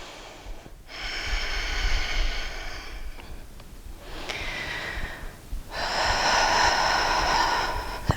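Three long, breathy exhalations sound close up during a deep core workout, each forceful gust lasting a couple of seconds and separated by short pauses, with no speech over them.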